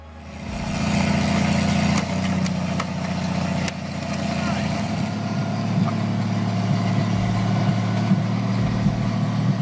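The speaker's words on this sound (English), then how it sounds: "The Kemsko Nutcracker runs on a Chrysler gasoline engine, generating massive torque to crush car frames in minutes." A Chrysler gasoline engine powers a Kemsko Nutcracker car crusher, starting up and then running with a steady, loud, low rumbling drone and some rough mechanical clatter, with a voice speaking over it.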